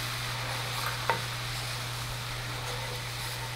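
Pomegranate juice deglazing a hot pan gives a soft, steady hiss throughout, with a single brief utensil tap partway through and a constant low hum underneath.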